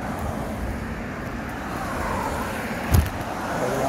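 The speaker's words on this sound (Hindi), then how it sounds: "ट्रैफिक आ रही है" Steady road traffic rumbles along a roadside crossing area, a continuous broad wash of passing cars with one louder vehicle swelling close by near the end.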